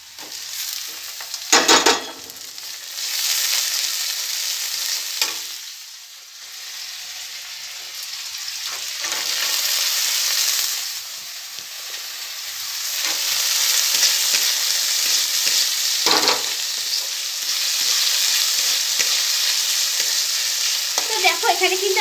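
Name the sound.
potatoes frying and being stirred in a pan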